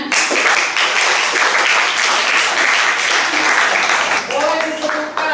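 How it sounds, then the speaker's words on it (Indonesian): Classroom applause during a science lesson, students clapping together in a steady dense burst for several seconds, close and loud, with voices mixed in toward the end. "Boleh beri tepuk tangan."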